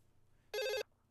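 A single short ring tone on an outgoing phone call sounds clearly for about a quarter second over faint line hiss.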